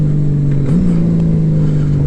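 A loud, close Honda Gold Wing DCT motorcycle engine idling with a steady drone, briefly revving up and settling back down, on dirt and gravel.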